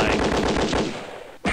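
Rapid burst of gunfire from the point-and-click game Sam and Max Hit the Road, a dense run of repeated shots for over a second, then cutting off abruptly before a sharp new sound.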